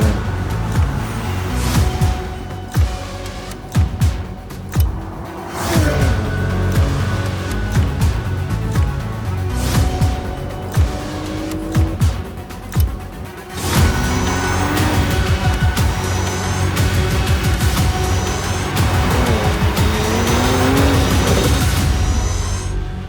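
A Porsche Macan GTS SUV driving fast, its loud engine note rising and falling with gear changes and revving, accompanied by some tire noise, sustained throughout with no talk.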